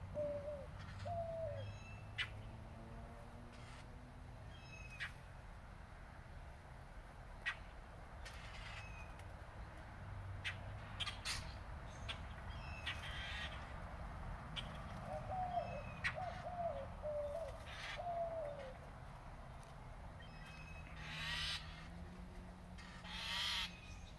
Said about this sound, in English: Do you guys hear these birds?